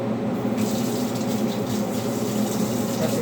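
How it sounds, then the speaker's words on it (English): A tap runs steadily as hands are washed in a kitchen after handling raw meat. The water makes a full, continuous rushing and splashing into the sink at close range. "Wash my hands."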